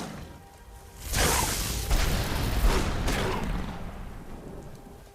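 Rain and thunder in the Skyrim video game: a steady rain hiss swells into a loud, rolling rumble of thunder that peaks and slowly fades, with no talking.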